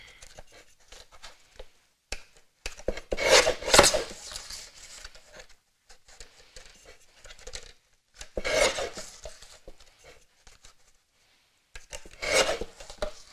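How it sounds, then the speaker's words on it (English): A paper guillotine trims a piece of craft card down to size. Three separate rasping, scraping bursts come from the blade sliding through the card, with near silence in between. "we're going to grab our guillotine just to trim this down to size"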